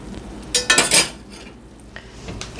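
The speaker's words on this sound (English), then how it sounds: "We can stir that all in. Get it all stirred in there." A spoon scrapes and clatters against a pot while lentil stew is stirred, a quick cluster of metallic knocks followed by softer scraping and faint sizzling.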